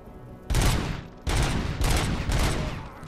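Grenade blasts and heavy combat in the video game Robocop: Rogue City, two loud close explosive bursts with rumbling tails and crackling debris, one right after the other.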